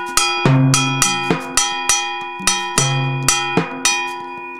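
Sharp metallic timbale strikes in a quick repeating pattern, bright cowbell-like hits mixed with a few ringing open strokes on the off-beat of beat two, played alone and close.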